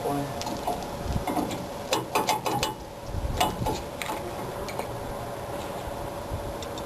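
A ratchet tightens a bolt on the fog light of a 1965 Ford Mustang GT, giving bursts of quick, close clicking, most dense between two and four seconds, over a steady background hum.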